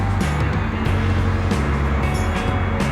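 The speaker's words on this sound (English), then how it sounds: "getting another group of cars coming through." A group of Corvettes drives past at a car show in North Dallas, engines rumbling loudly and close with steady low idling tones and several brief revving swells.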